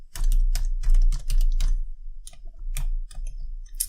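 Fast typing on a computer keyboard while writing Python code, close and loud, with bursts of rapid key clicks separated by short pauses.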